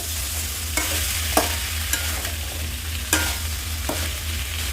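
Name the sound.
mutton sautéing with spices in a covered pot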